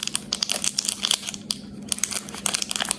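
A thin plastic wrapper crinkles and tears close up as a drinking straw is unwrapped, with sharp irregular rustles and crackles over about three seconds and no talking.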